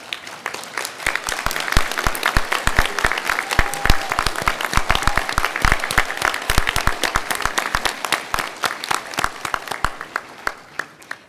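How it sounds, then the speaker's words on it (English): Loud, energetic applause from a large convocation crowd at a university graduation ceremony, honoring graduates' friends and family; dense, crisp clapping swells and holds for several seconds before gradually thinning out. "They deserve a huge round of applause."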